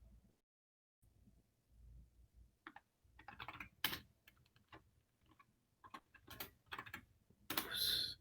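Quick bursts of key clicks on an old computer terminal keyboard while working in Unix 6th Edition, irregular clusters of typing with short pauses, close and fairly quiet.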